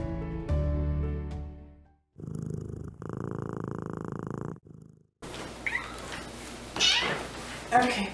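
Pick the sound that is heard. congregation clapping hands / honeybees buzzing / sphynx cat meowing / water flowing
sphynx cat meowing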